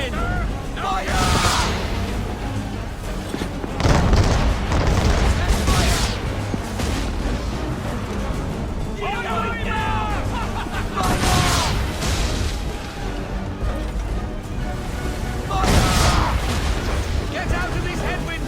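Ship swivel gun and cannon fire in Assassin's Creed 3 naval combat, heavy booms and crackling blasts spaced several seconds apart over a constant wind and sea roar, with shouted voices in between.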